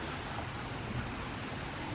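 A full creek runs after overnight rain during a morning walk, making a steady, broadband rushing and gurgling wash. The sound is continuous and fairly faint, with no voices.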